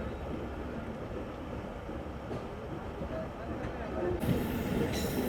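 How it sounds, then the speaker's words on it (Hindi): Tezgam train rolling through Dhabeji railway station, a steady broadband rumble of carriages heard from inside, growing slightly louder toward the end. "तो PLC लेते हुए गुजर गई हमारी ट्रेन ढाबे जी रेलवे स्टेशन से"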